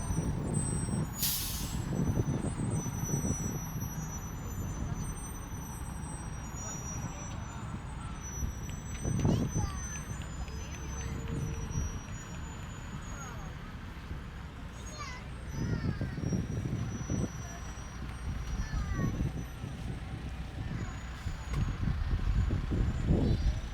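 Fire trucks and other heavy vehicles roll past in a holiday parade in Reading, with repeated air brake hisses, rumbling engines and scattered high beeps over steady crowd noise and talk nearby.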